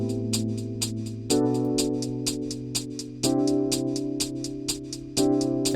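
A trap-style beat with its first hi-hat dropped plays alone: crisp, evenly spaced hat ticks over sustained synth chords and a deep bass, with the harmony changing every couple of seconds.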